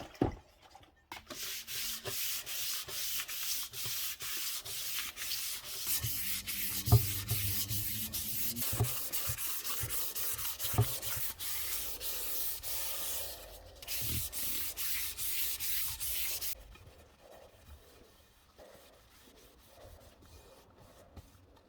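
Wet sanding an Alfa Romeo OZ Monza three-piece wheel by hand with 1200 grit paper: a steady, close abrasive rubbing with repeated strokes that runs for most of the stretch, then stops, leaving quieter handling sounds.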